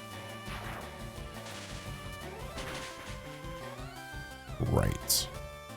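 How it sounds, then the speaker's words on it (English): Thunder Shock attack in Pokemon Leaf Green, a short crackling electric burst near the end over constant chiptune-style game music. "This second Thunder Shock should take it out though"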